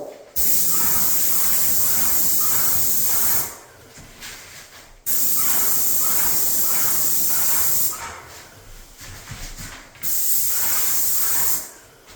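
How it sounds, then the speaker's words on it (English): Paint sprayer spraying trim: three long steady bursts of loud airy hiss, each lasting about three seconds, separated by short quieter pauses. "I keep a good distance away from what I'm spraying, and I keep a nice even speed"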